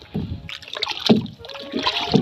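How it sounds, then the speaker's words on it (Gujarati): Fertilizer is stirred into water in a barrel, giving close sloshing and splashing in uneven bursts as the liquid is churned by hand. "આવી રીતે હલાવીને ખાતર વગાડી દીધું છે"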